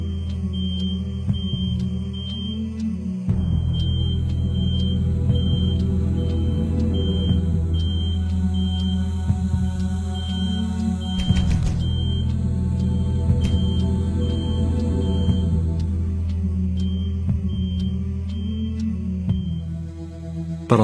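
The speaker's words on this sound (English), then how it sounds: "The smoke alarm was in another unit" A smoke alarm beeps in another apartment unit, its piercing high tone repeating in a regular pattern throughout, heard through a background hum and occasional louder bumps nearby.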